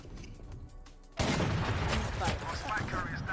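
Automatic rifle fire in the Valorant video game, a dense rolling burst of rapid gunshots that begins suddenly after a quieter moment and continues loudly to the end, with voices talking underneath.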